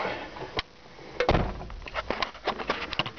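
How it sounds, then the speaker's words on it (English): A 1964 Ford Galaxie door opens with a click and shuts with a solid thud, followed by faint interior rustling and small knocks. "Oh, open the door first."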